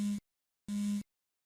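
A misplaced mobile phone rings after being called, sounding as two evenly spaced electronic tone bursts, clear and close, in a quiet room near a sofa.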